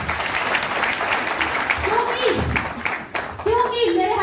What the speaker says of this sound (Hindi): एक बार मैं सम्मान में सर के लिए जोरदार ताली चाहती हूँ